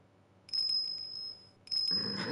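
Small bell tinkling on an animal's neck in a video game, two bright ringing bursts with a steady high tone, close and clear, the second running into a rougher noisy swell.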